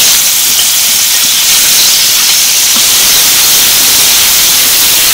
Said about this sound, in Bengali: 30 সেকেন্ড মতো আমটা তেলের মধ্যে ভেজে নিলাম।